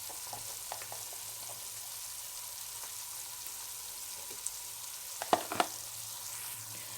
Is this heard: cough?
no